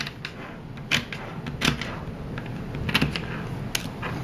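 Stacked rings of 18 small spherical Zen Magnets are broken apart into straight lengths, producing a handful of sharp, close metallic clicks and snaps spaced unevenly over a quiet background.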